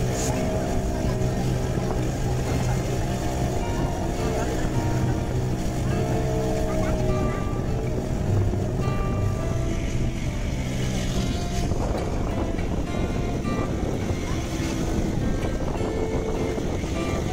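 A boat engine drones steadily on the sea near Pamban bridge at Rameshwaram, a close continuous rumble with wind and water noise, while people talk over it.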